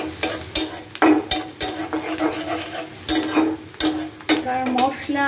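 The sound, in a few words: spices frying in oil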